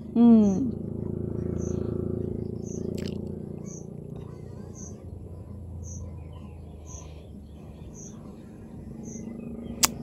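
A cricket chirps outside a house at night, evenly spaced high pips repeating steadily over a low background hum, with a brief animal call at the start and voices in the room.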